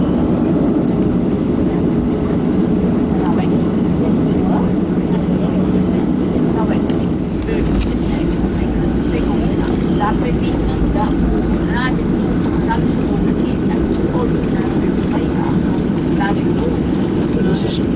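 An airplane taxiing toward the runway for takeoff, heard from inside as a loud, continuous engine drone and rumble with rattling cabin noises, while people talk over it.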